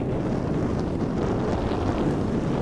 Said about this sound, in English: handling the wind and waves just fine